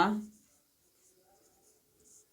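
A teacher writes on a board during a maths lesson, with faint, light scratching strokes in a quiet room after a brief burst of voice at the start.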